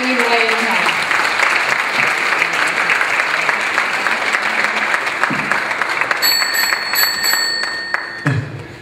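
Audience applause at a 2019 dance show, a dense, steady clatter of clapping that fills the whole stretch and eases slightly near the end, with a voice speaking over it.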